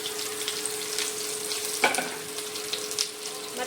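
Curry leaves dropped into hot oil with cumin in a pan for dal fry, giving a close, crackling sizzle with a sharp burst of spitting midway, then a steady frying hiss.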